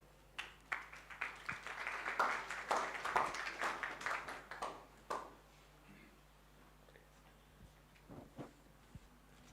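Conference audience clapping, a faint scattered round of applause that builds, then tapers off into quiet room noise with a few stray claps near the end.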